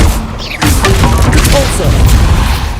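An Expelliarmus spell strikes in the video game Hogwarts Legacy, with a sudden loud booming impact after a short quieter lead-in, followed by a sustained crackling rumble.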